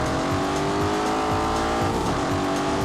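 The Aston Martin Vantage in The Grand Tour video game drives with a loud, continuous engine drone, rising and shifting in pitch under hard driving with some tire noise, heard alone without voices.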